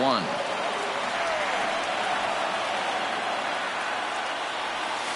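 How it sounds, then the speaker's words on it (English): A stadium crowd in the baseball video game MLB The Show 19 gives off a steady, hissing murmur that holds evenly at moderate level for several seconds, with a brief tonal blip at the very start. "I can hear the crowd murmuring now, wondering if he hit him on purpose"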